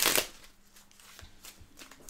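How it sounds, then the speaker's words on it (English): A deck of playing cards is riffle shuffled at a board game table during a Pandemic Legacy Season 0 session. One quick, crisp burst of fluttering cards is heard up close, then a quiet stretch with a few faint ticks. "I'm going to do one more good shuffle"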